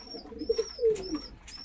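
Soft, low pigeon coos from Shobji Gorra breeding pairs come close by in short phrases, with a couple of rounded calls and a faint high thin tone running through.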